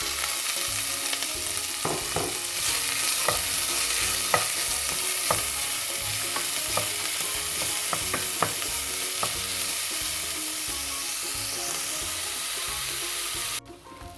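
Onion and green chilli frying in hot oil with mustard and fennel seeds, a loud continuous sizzle with scattered crackles and pops throughout, close up with no talking.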